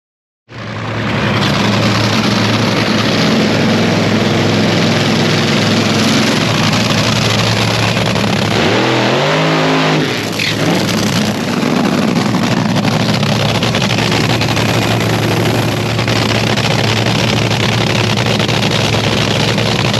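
A car engine roars loudly and steadily at high revs for the whole stretch, with a brief dip partway through before the throttle climbs again, close and without speech.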